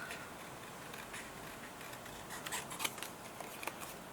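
Scissors snipping through a Christmas peel-off sticker sheet close by and quietly, a few soft, crisp clicks clustered toward the end against faint room hiss.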